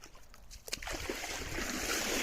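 Someone wades into an autumn river with a sudden splash, then steady rushing and sloshing water carries on, fairly quiet and close.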